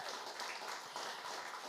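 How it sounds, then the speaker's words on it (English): Faint, steady applause from a town hall meeting audience for the DJ: continuous, even clapping heard from a distance, without breaks. "give our DJ a round of applause"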